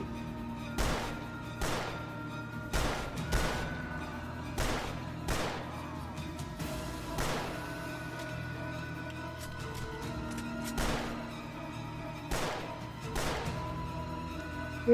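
Gunfire in the video game Rail de la mort sounds as a series of sharp, loud shots spaced roughly a second apart, each with a brief echoing tail, over a low steady background.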